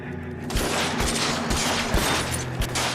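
Enemy gunfire in L.A. Noire Remastered, a sustained loud barrage of rapid shots with sharp repeated cracks over three seconds, no talking.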